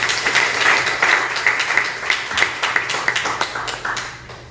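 A church seminar audience breaks into a burst of dense, close applause, many hands clapping in a steady patter that gradually thins and fades out.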